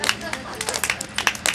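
An audience at a Hindu religious discourse claps in a brief, uneven burst of separate handclaps, close and fairly loud, with voices mixed underneath.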